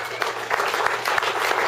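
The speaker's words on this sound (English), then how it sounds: "Let's give all these people a round of applause" A rally crowd at a Flag Day Second Amendment event claps in a short burst for people who read the Constitution, loud and fairly close, with some voices mixed in.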